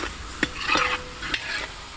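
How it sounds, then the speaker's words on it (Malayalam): Green chilli paste and tomatoes are stirred in a pan for Kerala fish pollichathu, with close scraping and clinking strokes of a spoon over a light sizzle and a couple of sharper knocks against the pan, and no talking. "പച്ചമുളക് പേസ്റ്റും അതുപോലെ തക്കാളിയൊക്കെ നല്ല രീതിയിൽ ഇളക്കി യോജിപ്പിച്ചിട്ടുണ്ട്"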